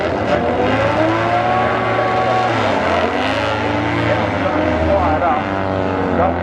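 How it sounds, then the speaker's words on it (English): Old speedway motorcycles race around a dirt track at a Masters Games meeting, their engines droning and rising and falling steadily throughout under an announcer's commentary. "Good to see the old bikes back out there."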